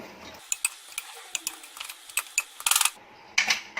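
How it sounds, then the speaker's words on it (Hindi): A spoon clatters in a pot while rajma, spices, oil and water are mixed, giving a quick run of sharp clinks and knocks at an uneven pace with a few louder scraping bursts near the end. "सब चीज़ों को मिक्स करेंगे अच्छे से।"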